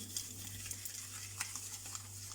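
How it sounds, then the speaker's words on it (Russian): Eggs, sugar and vanillin whisked together by hand with a wire whisk for a sponge roll, a faint, steady run of light scraping clicks with a low hum underneath. "Продолжаем взбивать, пока не растворится весь сахар и на поверхности не появится такая белая пеночка."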